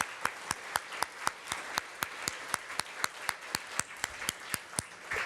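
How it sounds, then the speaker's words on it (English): Applause at a design competition awards event, heard as a steady pattern of sharp, evenly spaced claps standing out above a softer background wash, moderately quiet and continuing throughout without any talking. "Let's give her a warm round of applause."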